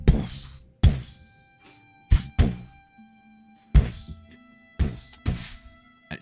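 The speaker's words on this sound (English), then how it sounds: "occasionally this rhythmic thumping coming from deep, deep below the earth" Deep, heavy thumps like something huge banging far below the earth land one after another in an uneven rhythm, each hitting hard and fading into a ringing resonant tail, with gaps between the impacts.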